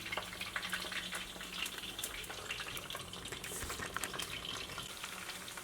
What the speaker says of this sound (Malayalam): ചിക്കനുള്ള ചിക്കൻ വറുത്തുകൊണ്ടിരിക്കുകയാണ്.